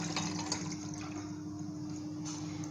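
Water poured from a cup into a cooking pot for a home remedy, a steady splashing and trickling fill running close and continuous for the whole short stretch, with no talk over it.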